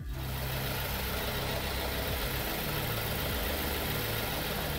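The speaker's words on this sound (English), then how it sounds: "Now that the engine is running" A car engine starts and settles into a steady idle right after an oil fill, running loud and continuous from start to finish with no talking.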